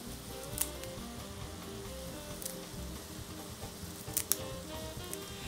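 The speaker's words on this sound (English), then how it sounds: "Once the rabbit has browned from one side, I'm going to turn the pieces over." Rabbit pieces brown in a pan with a quiet, steady sizzle and a few sharp clicks and pops along the way. No one speaks.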